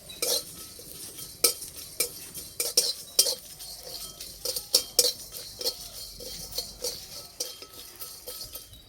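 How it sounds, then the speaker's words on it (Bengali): Whole cumin, coriander, dried chili, fennel, cloves and cardamom dry-frying in a wok, stirred with a metal utensil that clinks and scrapes in irregular bursts against the pan, with no talking. "গোটা মশলা ভেজে নেব"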